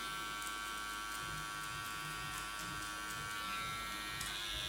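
Electric hair clippers buzz steadily while cutting a skin fade with the blade open, a close, continuous hum with slight rhythmic shifts as the clippers move through the hair.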